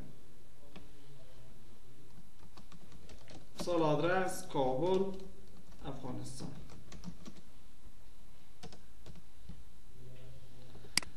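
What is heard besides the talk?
typing on a computer keyboard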